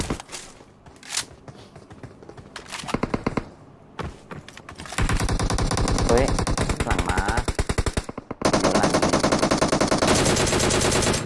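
Video game gunfire: loud, rapid bursts of automatic fire and single shots, building into long sustained volleys in the second half, alone without talk.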